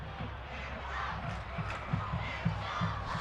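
Crowd murmur at a Thursday-night high school football game at North Stadium, a steady diffuse hum of a modest gathering with faint shouts and occasional low thumps, no clear cheering burst.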